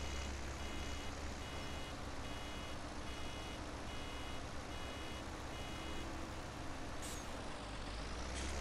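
A farm baler working on a hillside beeps in a regular series of short electronic tones over a loud, steady engine drone, signalling that it needs emptying, followed by a brief hiss near the end.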